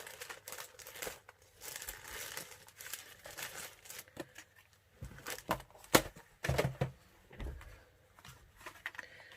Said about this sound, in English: I'm just going to grab some foil.